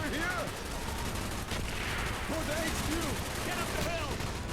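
Rapid gunfire in the Call of Duty: Black Ops video game, heard as dense, continuous bursts of shots with ricochet whines over a noisy battlefield background.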